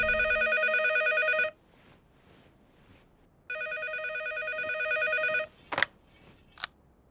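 A landline phone rings in two long electronic bursts separated by a pause, loud and close, followed by a couple of clicks as the receiver is picked up.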